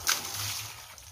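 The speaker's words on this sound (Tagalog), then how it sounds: "Lagyan ng tubig." Water pouring and sloshing into a mash of banana pig feed, a quiet splash at the start followed by soft, steady trickling, close and faint.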